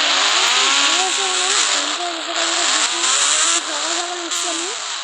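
A motorbike ridden in the Free Fire video game gives a loud, continuous engine drone whose pitch rises and falls as it revs and eases off.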